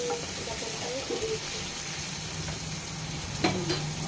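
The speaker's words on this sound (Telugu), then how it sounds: "ఉల్లిపాయలు ఇలా ఎర్రగా వేపుకోండి" Onions sizzle steadily in a hot pan for gongura chicken, a constant frying hiss with faint stirring clinks near the end.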